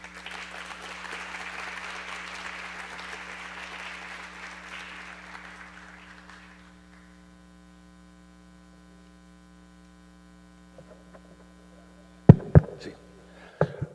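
A conference audience greets a visiting lecturer with steady applause that slowly dies away after about six seconds. A constant electrical mains hum runs underneath, and a few loud microphone thumps follow near the end.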